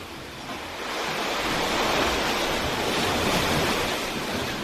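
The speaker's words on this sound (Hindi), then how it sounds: "पानी की उछलती मौजों की गहन आवाज़ आपके ही आनंद की अनुभूति का प्रतिध्वनि है" Ocean waves surge onto a seashore in a broad, loud wash of surf that swells and holds steady, with a rushing roar and no voices.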